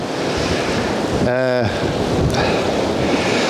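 Blustery wind and sea swell roll along the North Antrim coast in front of an old fisherman's cottage, a loud, constant roar of surf and wind buffeting the microphone. A brief tonal burst cuts through midway.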